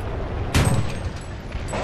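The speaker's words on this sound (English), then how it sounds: "Got my artillery going." A single heavy boom from the Panzer II Ausf. C tank's gun in War Thunder tank combat bursts out suddenly, then a rumbling tail fades under low background noise.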